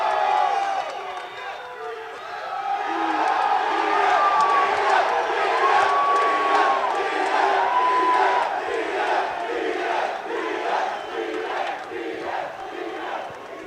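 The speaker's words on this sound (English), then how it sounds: "it sounds like there's a lot of people here to see you" Crowd at a UFC 263 press conference cheering and whooping for Nate, a loud sustained roar with shouts and some clapping, swelling midway, while voices speak over it.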